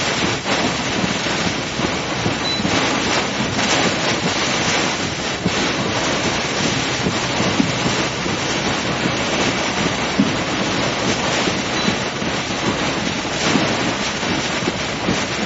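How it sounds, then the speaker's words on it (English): Strong wind gusts during a tornado chase, a loud, continuous broadband roar of wind buffeting the microphone for the whole stretch, with no voices. "here comes a really good wind"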